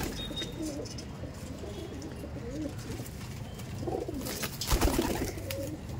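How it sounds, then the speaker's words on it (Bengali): Pigeons at an all-India pigeon flying tournament coo softly in repeated low, throaty phrases over a quiet outdoor background, with a brief rustle near the end. "এই পায়রাগুলো দেখুন"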